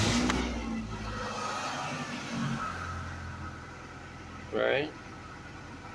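Cold-started car engine free revving right after a vacuum leak repair, a steady close mechanical drone that swells briefly without stumbling, with a short spoken word near the end.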